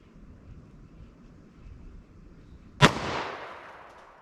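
A single loud, close 10mm pistol shot fired single action with Blazer Brass hollow point ammunition, a sharp crack followed by a short decaying outdoor echo after quiet ambience.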